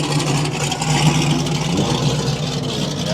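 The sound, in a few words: car engine revving, mufflers removed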